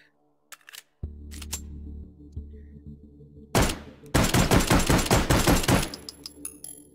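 Rapid bursts of gunfire from a WW2-era firearm shooting hot dogs, a low mechanical rumble first, then a dense string of sharp cracks in quick succession with some echoing tail.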